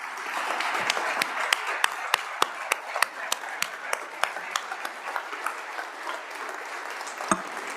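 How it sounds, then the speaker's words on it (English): Legislators in a state House chamber give a round of applause for two veterans, a steady crowd clapping with sharp, louder individual claps standing out near the microphone. "give a round of applause for both of those veterans"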